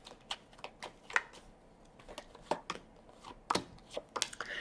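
Tarot cards are shuffled and handled close by, giving a quiet, irregular series of soft taps and riffling snaps, with no talking.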